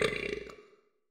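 A single drawn-out, throaty belch from a Popsoda soda radio commercial in the city-building game Cities: Skylines rumbles close and clear for under a second, then cuts off into silence.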